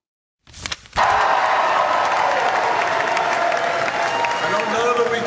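A packed rally crowd for a 73-year-old independent socialist senator from Vermont bursts into loud, sustained cheering and applause that starts abruptly and holds steady, with a brief burst of noise just before it.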